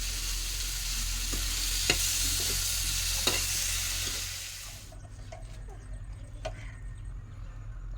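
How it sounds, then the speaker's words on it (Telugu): Bottle gourd dosa batter sizzles on a hot pan with a loud, steady frying hiss that drops to a quieter crackle partway through, dotted with small ticks. "ఇప్పుడు అట్లే వేస్తున్నా"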